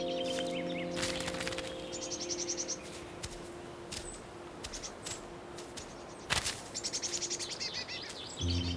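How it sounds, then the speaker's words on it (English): Songbirds such as tits gather at a bird feeder in a snowy Swiss winter, giving scattered faint high chirps and twitters over quiet background hiss, with one sharp click near the end. "In a hard winter with permafrost, freezing rain, or a closed blanket of snow, bird feeders help songbirds survive."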